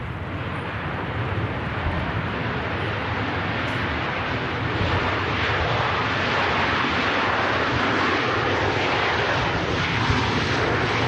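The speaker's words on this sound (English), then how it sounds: "That touchdown was definitely influenced a little bit by the breeze coming up off the hump" A Ryanair airliner lands at Manchester Airport with a bit of a bounce in a breeze, and its engine roar rushes loud and steady for the whole stretch with wind buffeting the microphone. No one speaks.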